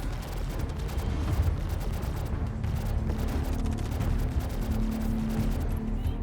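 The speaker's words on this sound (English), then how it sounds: "they start shooting at me" Gunfire in the video game Star Citizen, a dense continuous stream of rapid shots and blasts at steady loudness, with a low droning hum running underneath and no talk.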